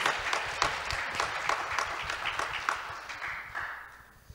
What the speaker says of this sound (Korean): 힘찬 박수로 맞아주시기 바랍니다